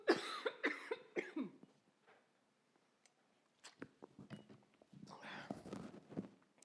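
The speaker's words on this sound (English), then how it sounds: "Excuse me, I'm gonna cough again." Several harsh coughs in quick succession from a speaker giving a talk indoors, followed by a quiet pause and then some soft rustling and shuffling noise.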